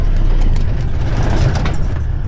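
A safari vehicle's engine rumbles low and loud, close by and steady, on a game drive in Chobe National Park, Botswana, with no talk over it.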